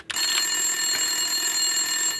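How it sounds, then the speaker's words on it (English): A desk telephone rings in Max Payne 2, starting abruptly and sustaining a steady, loud electronic trill with bright tones that carry on unbroken for about two seconds, heard alone. "Winterson's phone was ringing."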